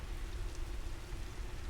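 Steady rain patters against a window on a rainy evening, a dense, even wash of drops that holds at a constant level from start to finish with no voices.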